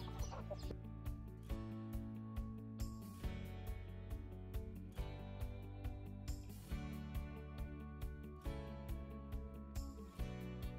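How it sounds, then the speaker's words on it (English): Backyard chickens clucking near their coop, repeated soft clucks and calls in an irregular rhythm, fairly faint, over a steady tonal background. "My sister loves her chickens."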